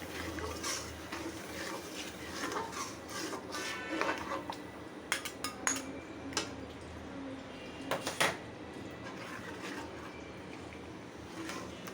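Turmeric, chili, coriander powder and ginger-garlic paste with salt and garam masala being fried and stirred in oil, with scraping of a utensil against the pot and a steady low sizzle, a few sharper clinks standing out.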